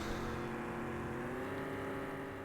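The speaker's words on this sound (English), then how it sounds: "We don't need so much engine noise" A steady car engine sound from a Roblox video game drones on continuously with a faint rising pitch, like a car cruising, no talking.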